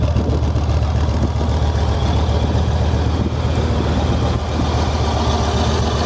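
A Yamaha Stratoliner Midnight belt-drive motorcycle idling nearby, a loud, steady low engine rumble with no talk over it.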